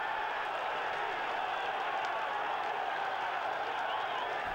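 Travelling football fans of AFC Bournemouth erupting after a last-minute solo goal, a distant, dense crowd roar with applause sustained evenly throughout, slightly muffled as if heard from afar.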